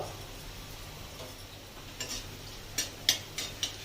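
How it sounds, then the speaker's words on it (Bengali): Nigella seeds tempering in a little hot oil in a wok: a soft, continuous frying hiss with a few sharp crackles and pops toward the end, close but fairly quiet. "কড়াতে যেটুকুনি তেল ছিল এর মধ্যে আমি কালো জিরে ফোড়ন দিয়ে দেবো"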